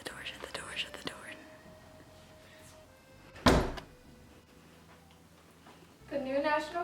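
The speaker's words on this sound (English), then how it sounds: "Shut the door, shut the door, shut the door." A door is shut once with a single sharp thud, a loud brief impact standing out between quiet whispering and murmured voices.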